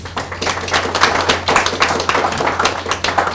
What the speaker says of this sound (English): can you give them a warm hand of applause?